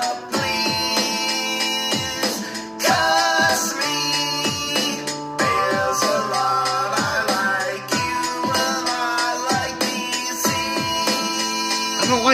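A clavichord plays a plucked, twangy keyboard line within a full song arrangement, steady rhythmic notes repeating over about twelve seconds with bass and other parts underneath, no voices talking.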